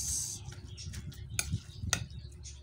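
A spoon stirs banana heart stew in a pot, making soft, quiet scraping and clinking sounds with a few sharper taps against the pot.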